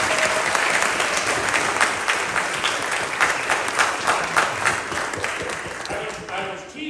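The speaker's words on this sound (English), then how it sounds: "Give her a round of applause." Audience applause fills the room with a dense, sustained patter of many hands clapping, moderately loud and even, with a few voices mixed in before it tapers off.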